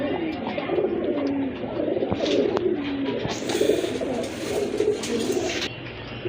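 Several pigeons at a pigeon farm coo in low, overlapping, rolling calls that continue steadily, with occasional brief higher chirps and bumps.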